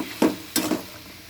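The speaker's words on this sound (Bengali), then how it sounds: "এইগুলো এখন ভাজবো" Papaya, potato, capsicum and peas frying in a pan, heard as two or three short scraping stirs over a faint sizzle.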